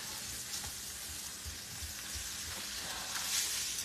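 Sausage sizzling in a large pan set on a small stovetop burner, a steady broadband crackle and hiss throughout, close and moderately loud, with no voices over it.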